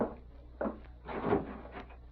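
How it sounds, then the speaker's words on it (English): A door in a radio drama is opened, with wooden creaks and knocks of a latch and hinge in a few short bursts, close and fairly quiet, without voices. "Now open the door and walk in."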